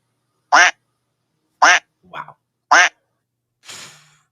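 A duck gives several loud, close quacks, three sharp calls spaced about a second apart with softer, raspier quacks between and after them, and no other sound.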